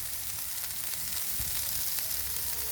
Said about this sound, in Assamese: মই এটা এটাকৈ গোটেইকেইটা মাছ তাৱাখনত দি দিলোঁ।